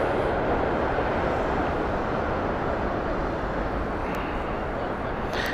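Alaska Airlines long-haul jet in a newer livery arriving at Heathrow Airport, a steady broad roar of engines heard from a distance, unbroken throughout with no speech.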